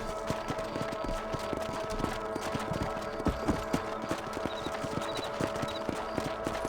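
Horse hooves clip-clop steadily in the Red Dead Redemption video game, a continuous rhythmic trotting under a constant background hum, with no talking.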